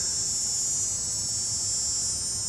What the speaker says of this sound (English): So let's see if we can get through this without the cicadas being super loud.